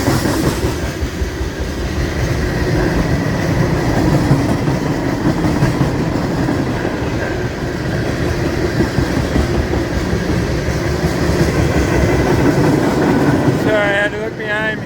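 A long freight train with scrap-metal cars rolls past nearby at Folkston, Georgia, its wheels keeping up a steady, loud clatter and rumble throughout, and a brief voice enters right at the end.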